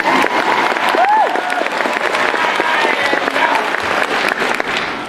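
A theatre audience applauds and cheers a stage performance of Aladdin, loud continuous clapping with a few whoops and a performer's voice heard over it.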